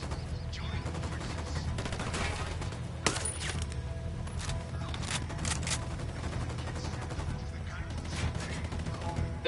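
Rapid gunfire from a firefight in the video game Ghost Recon Wildlands, continuous crackling bursts with a few sharper shots, fairly quiet and steady throughout under a dense layer of battle noise.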